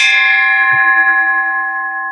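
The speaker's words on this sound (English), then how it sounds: "Our forum is now adjourned, and I get to ring the gong again." A gong is struck once to close a public forum, and its bright metallic tone rings loudly, sustaining and slowly fading across the whole stretch.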